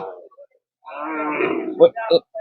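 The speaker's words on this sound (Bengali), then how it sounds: "এখানে একটি গরু রয়েছে আমরা দেখতে পাচ্ছি" A Friesian cow at a cattle market lets out a drawn-out, low moo, followed by a couple of short grunting calls, close by and fairly loud.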